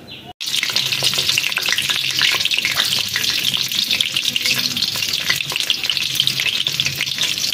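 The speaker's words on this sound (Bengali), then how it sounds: "দেখো আস্তে আস্তে ভাজতে হবে, যাতে পুরটা না বেরিয়ে যায়।" Stuffed pointed gourd (potol) fries gently in hot oil, a loud continuous crackling sizzle close by, with a brief knock at the very start and no talking.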